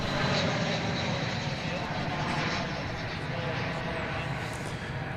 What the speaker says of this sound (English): This Airbus A321 is coming in from San Antonio, Texas, flight 2609, American Airlines